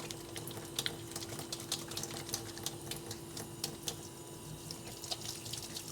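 Water from a running kitchen tap splashes steadily into a sink as something is rinsed during brioche baking, a continuous close hiss with small splashy spikes and no talking.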